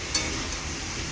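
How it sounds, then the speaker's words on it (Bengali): Starfruit pieces with salt and turmeric fry in a pan, giving a short, steady, close sizzle with a faint stir at the start. "এবার কামরাঙ্গাগুলোকে এইভাবে ভাজা ভাজা করে নেব"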